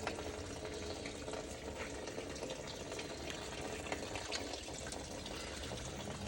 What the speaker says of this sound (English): Here's the place to drain the water.